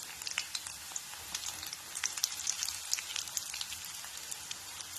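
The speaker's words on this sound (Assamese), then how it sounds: "মই এতিয়া দাংবডি ভাজি বনাব লৈছোঁ" Dangbodi fries in a pan on a gas stove with a steady, crackling sizzle and scattered small pops, fairly faint and continuous with no voices.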